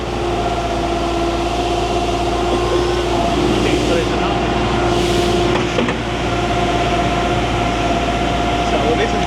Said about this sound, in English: This is where the concrete is mixed, and as it's coming out of the concrete mixer